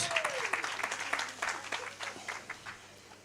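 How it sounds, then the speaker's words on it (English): Workshop audience claps for a guest, a lively burst of applause that is loud at first and gradually thins and fades, with a brief tone sweeping down at the start. "Let's give Nozipo a round of applause."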